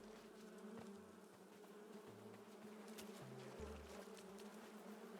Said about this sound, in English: I have bees.